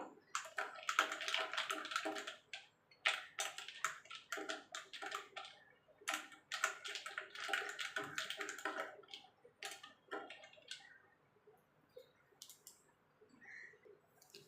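Bael fruit sherbet made with plain water is stirred in a vessel, giving rapid clinking and sloshing strokes in irregular bursts up close, then trailing off into faint scattered taps.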